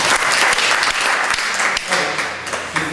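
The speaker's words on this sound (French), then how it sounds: "On peut l'applaudir." A group of students claps at a pole vault training session, a short burst of steady, fairly close applause lasting a few seconds without speech.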